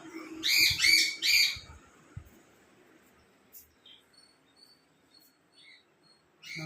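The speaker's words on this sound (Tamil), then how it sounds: "நம்ம பறவைகளை பாருங்கள்." Pet birds at home chirp in a few loud, close bursts of bright calls at first, then faint scattered tweets and small squeaks follow in a quiet room.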